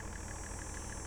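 A tractor engine idling in Farming Simulator 22, a steady low mechanical rumble with a fast even pulse, constant and close with no other sounds.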